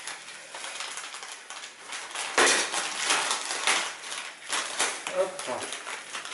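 Joint compound powder being stirred into water, producing scraping, knocking and clinking mixing sounds at a moderate level, with a voice talking over much of it.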